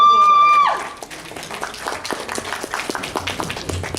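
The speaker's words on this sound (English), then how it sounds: "Give him a huge round of applause." Audience applause at a Fursquared 2015 convention storytelling panel, scattered clapping rising after a tone fades and continuing at moderate level for several seconds.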